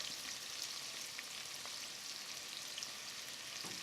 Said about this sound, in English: fry the onions for at least 2 minutes on high heat